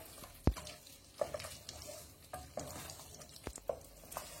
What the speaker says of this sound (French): Et je mélange bien